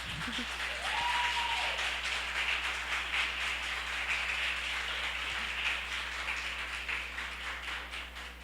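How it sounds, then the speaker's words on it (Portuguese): Sustained applause from a crowd, steady and dense throughout, with a brief voice near the start. "Gente, palmas de novo, eu quero palmas."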